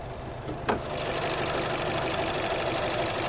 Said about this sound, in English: A little bit of a louder, gruffer sounding engine.